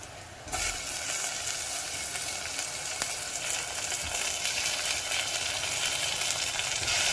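Steady, loud sizzling of tomatoes frying in a hot pan while cooking mutton thokku, a continuous crackling hiss with occasional stirring scrapes, no voices.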